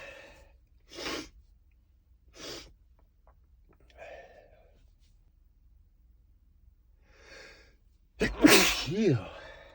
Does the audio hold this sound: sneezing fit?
yes